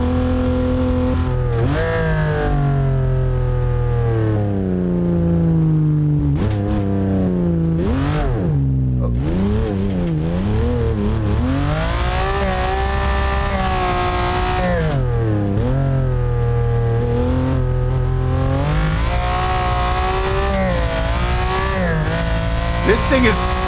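Lamborghini Countach engine in BeamNG.Drive revving hard through the gears, loud and close, with rising and falling pitch sweeps, brief dips at shifts and a continuous roar throughout.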